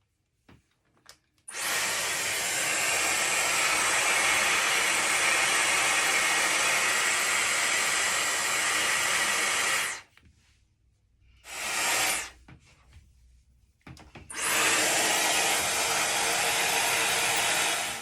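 A Dyson hair dryer fitted with a second attachment blows a loud, steady hissing rush of air while styling hair, cutting off briefly twice before running again.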